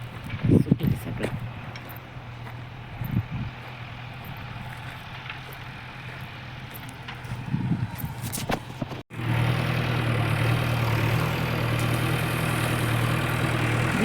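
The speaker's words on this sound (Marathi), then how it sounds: "आली तिची गाडी घेऊन" A vehicle engine idles on arrival, a steady mid-low rumble that swells and holds loud through the second half, with scattered thumps and noise earlier.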